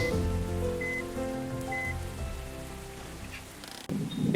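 Video game rain in a bus simulator, pattering steadily on a surface, with a continuous wash of drops and faint tonal background sounds, then a sudden louder burst near the end.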